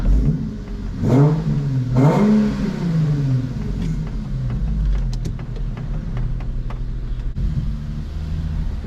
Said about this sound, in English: Get a few revs in here.